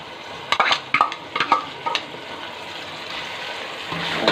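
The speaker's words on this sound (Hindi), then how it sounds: "अब इसके अंदर हमने टमाटर का पेस्ट डालना है जो हमने बना के रखा था।" Tomato paste cooks in a hot pan with spices, a few sharp scraping stirs up front and then a soft, steady sizzle carrying on alone without speech.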